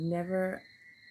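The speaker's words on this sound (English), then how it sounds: "these frogs are screaming" Frogs screaming at night, a steady, shrill, high-pitched drone that carries on after a man's brief spoken words at the start.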